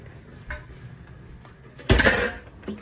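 Pots and dishes clatter during washing up in a home kitchen while Jamaican rice and peas cook, with a couple of light knocks and then a louder burst of clanking metal and crockery near the end.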